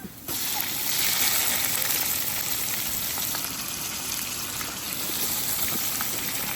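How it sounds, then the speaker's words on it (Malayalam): Water pours into rice in a hot pot while mussel biryani is being made, a steady rushing, hissing gush with light sizzling that starts abruptly and holds close and even throughout. "നമ്മൾ അങ്ങനെ ആവശ്യത്തിന് വെള്ളം ഒഴിച്ചിട്ടുണ്ട്"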